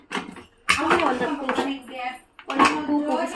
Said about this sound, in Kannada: ಈಗ ಮುಚ್ಚಳ ಹಾಕ್ತಾಯಿದ್ದೀನಿ